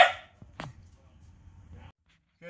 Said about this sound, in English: I got the puppy in the background barking